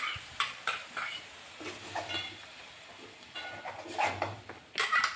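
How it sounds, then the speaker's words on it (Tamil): Ground spice paste is sautéed in a pan for a horse gram rasam, giving soft scraping stirs and light clinks of a spoon against metal with a faint sizzle underneath, close and without talk. "நம்ம அரைச்சி வச்சுருக்க பேஸ்ட்டு நம்ம ஆட் பண்ணி ஒரு பச்சை வாசனை போகிற வரைக்கும் நம்ம நல்லா கொஞ்சம் நல்லா வதக்கிக்கலாம்"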